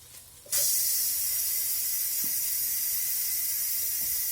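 An Instant Pot vents its pressure in a sudden loud, continuous hiss of steam that starts abruptly and holds steady; no one speaks.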